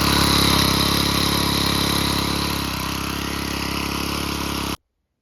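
A tiller's small engine runs steadily close by, a loud, continuous clattering drone that holds an even pitch before cutting off abruptly near the end.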